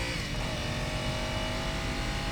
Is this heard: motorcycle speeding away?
yes